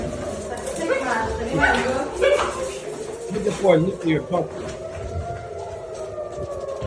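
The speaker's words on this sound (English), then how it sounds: "you can hear the air raid sirens in the background" A wailing air raid siren drones steadily in the background, while someone talks over it in the foreground.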